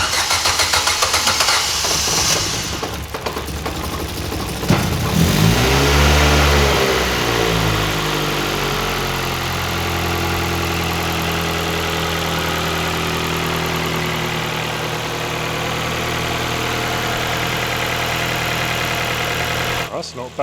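A race car engine cranks over and catches into a rising revved burst, then drops to a steady, rumbling idle nearby; voices talk over it at times.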